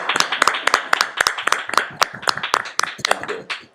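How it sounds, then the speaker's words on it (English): A round of applause at a school board meeting honoring the Board of Education, with many hands clapping in a dense, irregular patter that stays steady and fairly loud throughout. "I'd like to give the Board of Education a round of applause for your dedication"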